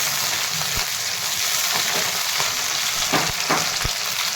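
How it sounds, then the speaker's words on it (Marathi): Okra fries in oil in a kadhai, a loud, steady close-up sizzle with a few soft clicks of stirring underneath. "भेंडी तेलामध्ये थोडीशी फ्राय करून घेत आहे"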